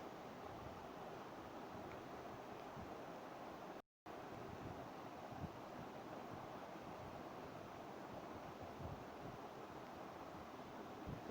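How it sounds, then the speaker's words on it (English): Strong wind blows steadily and forcefully, a dense, continuous rushing roar that fills the clip apart from a split-second dropout near the four-second mark, with no talking. "The wind blows strongly and causes a lot of destruction."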